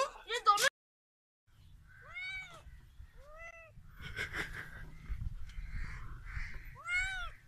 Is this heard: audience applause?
no